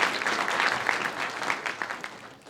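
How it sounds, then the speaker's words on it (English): Applause from an audience at a military speech competition: a short burst of steady clapping from a crowd that thins and fades over a couple of seconds, with no voices. "That's another clap."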